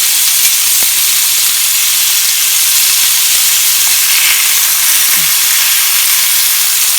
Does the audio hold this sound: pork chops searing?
yes